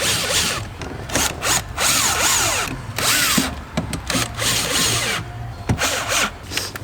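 A power drill drives screws into three factory mounting points in a car door for a front speaker, with repeated loud whirring bursts that rise and fall in pitch and pause briefly between runs, very close.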